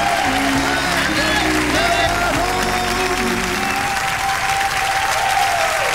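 Audience applause for a band, a steady dense clapping from a large crowd that fills the clip, with a band's music fading out beneath it during the first half.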